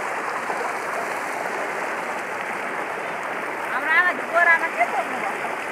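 The swollen Turke Khola rushes in flood, a loud, continuous broadband roar of churning water heard up close, with a brief voice rising over it near the end.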